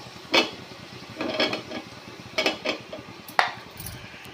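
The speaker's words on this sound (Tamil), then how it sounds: "தக்காளி நல்லா கிண்டிக்கலாம்." Spoon scraping and clinking against a cooking pot while tomatoes are stirred for chicken biryani, in four or five short close bursts.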